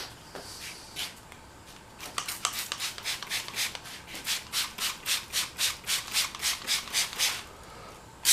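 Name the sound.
wet sanding headlight lens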